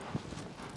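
A single soft hoof clop from a horse walking in the video game Shadow of the Colossus, brief and low, over faint background ambience.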